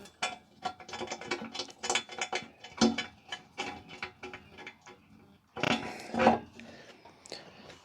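Ratchet wrench driving bolts into an ATV fitted with a big-block Chevy engine, fast clicking strokes in quick repeated bursts, close and clear, pausing briefly before another louder run of clicks.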